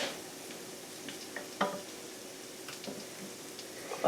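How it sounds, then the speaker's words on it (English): Sauce for sticky tofu bowls bubbling and sizzling in a pan over high heat, stirred with a few soft scrapes and one light clink, steady and moderately quiet with no talk. "Give that a little stir"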